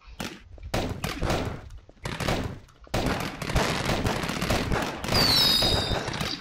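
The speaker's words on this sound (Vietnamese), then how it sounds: "Chuẩn bị kích hoạt quả pháo hoa này." Fireworks go off in the Garry's Mod video game as loud, dense volleys of crackling blasts. A few short bursts with brief gaps become a continuous barrage, and a shrill whistling rises near the end.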